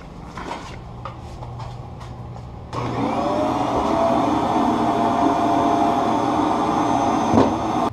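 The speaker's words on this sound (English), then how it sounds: "I want to get rid of all of this debris from the sanding, and I'm going to use a vacuum and this little chip brush." A vacuum cleaner picks up sanding debris, starting up after a few faint knocks and then running with a loud, steady whine to the end.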